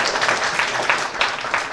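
An audience gives a round of applause for a school team at a quiz competition, a full, sustained clapping from many people with rhythmic swells, fairly loud and continuous throughout.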